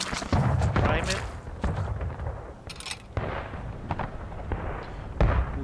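Civil War artillery cannon firing in the video game War of Rights, with sharp booming blasts at the start, near one second and around five seconds, heard under ongoing talk and game background noise.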